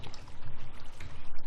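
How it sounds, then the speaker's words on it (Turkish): Water bubbles and splashes steadily in a short burst, a soft, continuous gurgling flow from Minecraft heard up close with no voices. "Ya şu su sesi o kadar dinlendirici bir ses ki."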